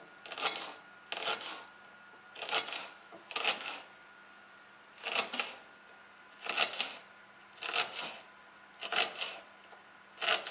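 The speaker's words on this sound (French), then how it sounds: "Et vous pouvez commencer à hacher finement." Avocados being chopped finely with a knife on a board: about a dozen crisp, evenly spaced bursts of quick cutting strokes, close and clear, with pauses between them and no talking.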